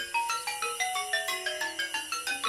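A cartoon telephone ringtone plays a quick, bright melody of repeated chiming notes, clear and alone, in a steady pulsing rhythm.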